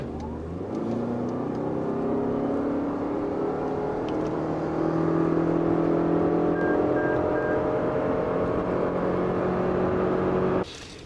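A Toyota Highlander with a 246-horsepower engine accelerates in sport mode with the gear lever set to S, heard from inside the cabin as a steady, moderately loud engine drone that rises gradually through the gears before cutting off abruptly.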